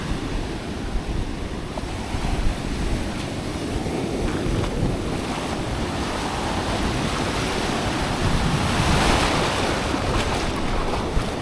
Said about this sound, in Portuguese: O mar tá bravo hoje